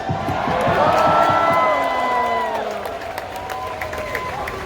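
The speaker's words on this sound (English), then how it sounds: "Let's give him a round of applause." A crowd at an Andrew Yang political rally in Los Angeles applauds and cheers loudly and steadily, with whoops rising over the clapping before it gradually fades.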